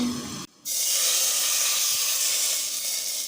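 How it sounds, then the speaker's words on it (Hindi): Tadka tempering poured into dal in a pot: a sudden loud hiss that bursts out after a brief pause and keeps sizzling steadily, close and alone. "अब इसमें डालेंगे हम तड़का और आप देखिएगा माशाल्लाह से।"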